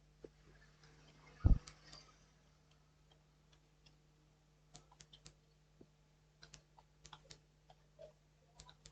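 Quiet computer keyboard typing in Notepad: sparse, light key clicks in short irregular bursts, plus one dull thump near the start, in an otherwise still room.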